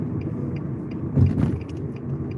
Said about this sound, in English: Why is this car going off the road?